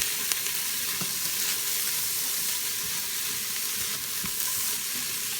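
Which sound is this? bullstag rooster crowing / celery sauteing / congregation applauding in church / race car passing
celery sauteing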